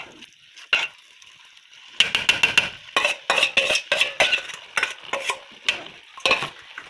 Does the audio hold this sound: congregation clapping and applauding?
no